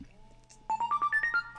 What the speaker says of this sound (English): And I have a phone call.